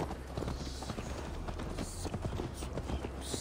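A horse's hooves clip-clop in a quick steady rhythm during a ride in the video game Assassin's Creed Valhalla, close and continuous under game music, with voices speaking over it.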